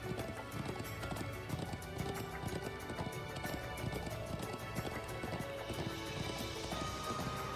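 Horse hooves in the video game Trails of Cold Steel II clip-clop in a quick, steady galloping rhythm over layered game music, fairly faint and continuous.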